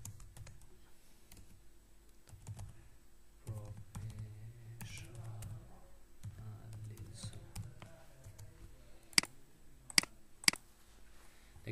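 Someone types on a computer keyboard in a run of soft, irregular key clicks close by, with a few sharper taps near the end, while a person talks.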